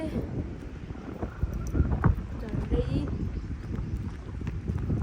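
Gusty wind buffets the microphone outdoors at Kamla Khola on a sunny day, a rough, continuous rumble that swells and dips while people talk over it.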